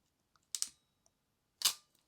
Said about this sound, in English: you want to get your crimper and just keep pulling it until you feel it sort of snug up